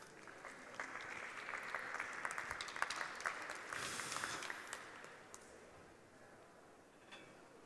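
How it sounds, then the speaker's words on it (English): Applause from an audience at a literature festival event at the British Library, a steady patter of many hands at moderate distance that swells, then thins and fades toward the end. "Give him a round of applause, guys."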